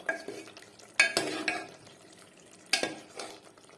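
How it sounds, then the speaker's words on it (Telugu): Spinach egg curry gravy is stirred in a pan, with a spoon scraping and knocking against the metal in a few sharp strokes over a soft background sizzle. "వేసి ఒక్కసారి దీన్ని కలిపేద్దాం."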